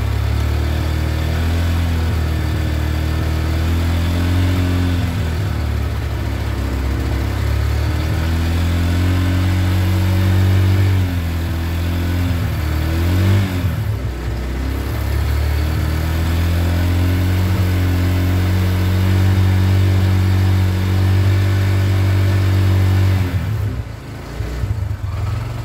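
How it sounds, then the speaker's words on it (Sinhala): A petrol three-wheeler engine running loud and close with a steady low droning hum, with its pitch shifting as it revs in a couple of places, continuing without talk. "දැන් ත්‍රිවිල් එක හොඳට රේස් වෙනවා."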